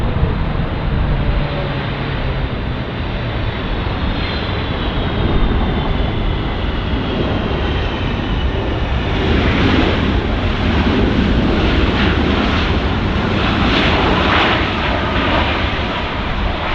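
A heavy jet airliner, such as a Boeing 777, roars in on approach to land at Los Angeles International Airport, a loud sustained engine drone with a descending whine that swells and grows rougher toward the end, with wind buffeting.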